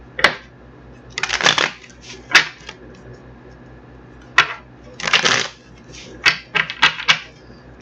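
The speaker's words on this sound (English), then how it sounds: "I'm going to get these cards shuffled up" Tarot cards are shuffled in several bursts of riffling, flapping clatter, close and crisp, with short pauses between the rounds.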